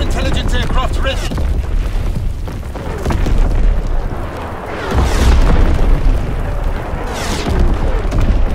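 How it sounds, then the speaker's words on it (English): Enemy artillery barrages in the Call of Duty WWII game land as heavy, continuous booming explosions that swell in waves, loud and dense, with voices heard over the rumble. "Incoming enemy artillery."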